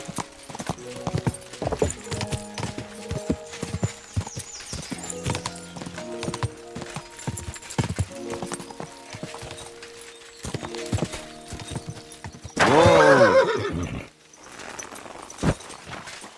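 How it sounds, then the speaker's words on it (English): Horse hooves clip-clopping at a walk in the medieval world of Kingdom Come: Deliverance II, followed by a loud, drawn-out neigh near the end, with scattered footfalls after it and music underneath. "Oh my, what a beautiful horse."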